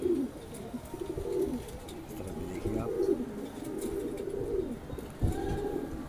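Madrasi pigeons coo continuously in low, throaty rolling phrases close by, repeating steadily over a constant background hum.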